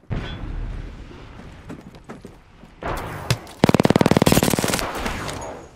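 Video game combat: scattered shots and thumps give way to a loud, rapid burst of machine-gun fire that rattles for over a second before tapering off.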